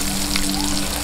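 Onion sizzles steadily in hot oil during sautéing for bangus humba, a continuous close frying hiss with no voices.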